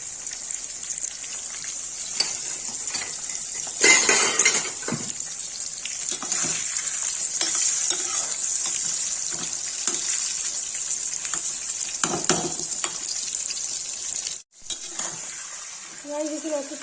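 Bottle gourd fries in a pan with a steady, loud hiss and occasional clinks of a utensil, while a voice speaks briefly over it.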